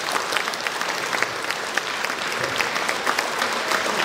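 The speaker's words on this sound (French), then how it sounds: "On peut les applaudir, elles le méritent" Applause at a festive CCAS community meal, a dense sustained burst of many hands clapping at once, loud and close, with no voices rising above it.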